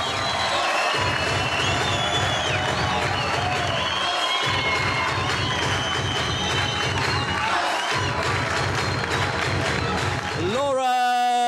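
Crowd roaring and cheering at the finish of a women's professional squash match, a loud sustained wash of voices that fills the whole stretch.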